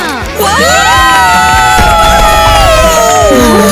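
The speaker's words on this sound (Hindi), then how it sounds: "और अब होंगी हमारी लड़कियों के लिए तालियां" A crowd of young voices cheers and whoops loudly for the girls' team at a K-pop idol school dance contest, high shouted calls rising over a dense, sustained din.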